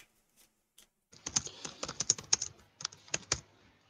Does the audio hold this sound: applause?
no